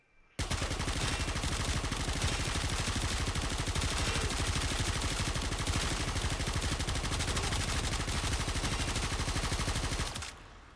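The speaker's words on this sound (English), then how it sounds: "Like I said, it's a machine gun pistol, so you're not really expected to fire accurately" The Secura Dual Cestra machine gun pistols in Warframe fire one long, unbroken burst of rapid shots, loud and dense, for about ten seconds before stopping abruptly.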